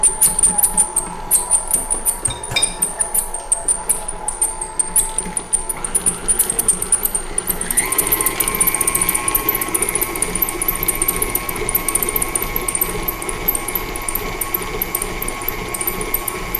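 An electric mixer whirs steadily as it beats cupcake batter made with shortening, its motor whine rising in pitch and intensity partway through when switched up to high speed, continuous and close.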